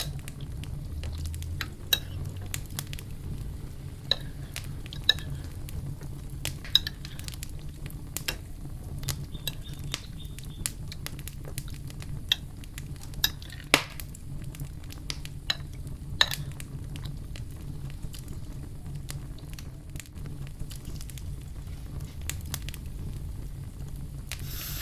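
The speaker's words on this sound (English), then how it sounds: "Give it another mix." Sticky BBQ chicken is stirred in a pan: scattered scrapes and clinks of a utensil against the metal ring out over a low, quiet sizzle, with no voices.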